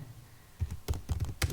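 Keys clacking on a computer keyboard while entering a bill invoice in an Excel sheet, a burst of several close, moderately loud strokes in quick irregular rhythm after a quiet start, with no talking.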